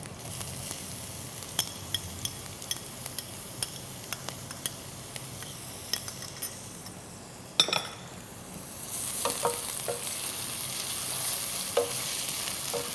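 Finely julienned ginger stir-fries in a pan with shallots and garlic, giving a soft, steady sizzle under scraping and light clinks of a utensil, with the frying growing louder toward the end.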